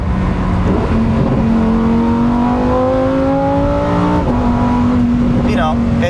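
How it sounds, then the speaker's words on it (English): A Lamborghini Huracan STO's engine rises and blips through a downshift, its tone climbing in stepped pitches before settling into a steady loud drone, close and continuous, with a voice talking over it. "You can also downshift."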